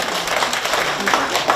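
Audience applause at a university alumni teacher-appreciation tea gathering, a dense burst of clapping from a crowd that fills the short moment loudly.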